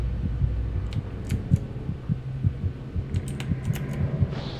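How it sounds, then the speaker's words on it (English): A heartbeat thumps in the video game Among The Sleep, in its Prologue DLC: steady, low, double-pulsed beats repeat close and clear for several seconds over a faint hum, with occasional light clicks and no speech. "Why is the heartbeat a thing?"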